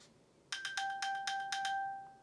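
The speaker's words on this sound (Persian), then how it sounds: "به اسم پینگ مای اپل واچ که اگه بزنیدش اپل واچتون صدا میده" Apple Watch ping chime triggered from an iPhone, a burst of rapid bright ringing tones that settles into a sustained two-note tone, clear and alone against quiet.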